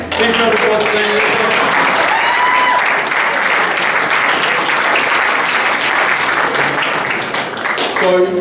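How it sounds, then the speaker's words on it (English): A room of people at a youth football academy awards night claps in a loud, sustained round of applause, near and dense, with some voices and cheers mixed in before it tapers at the end. "Big round of applause for them."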